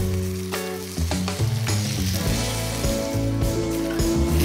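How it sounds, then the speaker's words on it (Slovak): Turkey breast cutlets seasoned with salt and black pepper fry in a very hot pan, giving a steady loud sizzle with a few clatters at the start and a faint tonal hum running underneath. "Ak je panvica poriadne rozpalená, meso položíme opekať."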